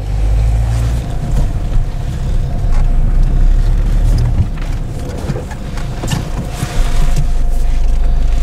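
A 2005 Peugeot 407 diesel car pulls away, its engine drone steady and close throughout with a low rumble and some wind noise, rising slightly near the end as it gets moving.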